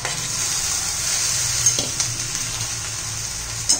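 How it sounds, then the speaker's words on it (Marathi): Cooked rice tipped into a hot pan of Schezwan sauce and chilli sauce for veg fried rice, giving a steady loud sizzle with a few sharp scraping stirs near the end. "आणि मग आता आपला शिजवलेला तांदूळ घालायचा आहे।"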